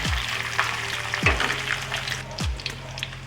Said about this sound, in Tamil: இது நல்லா வதக்கி வரட்டும் ஃப்ரெண்ட்ஸ்